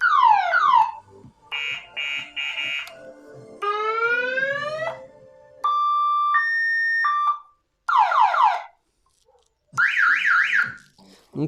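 An electronic Citon siren fitted to a customised caddie runs through six distinct tones in turn: falling sweeps, rising whoops, steady two-tone beeps and fast warbles, loud and separated by short pauses.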